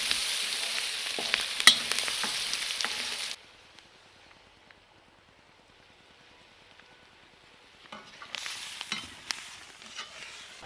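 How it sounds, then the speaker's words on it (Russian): Onions fry in oil in a kazan outdoors for kazan kebab, a bright dense sizzle with stirring clicks that cuts off abruptly, leaving near silence, then returns for the last few seconds. "Жареный лук, он украсит вкус казан-кебаба."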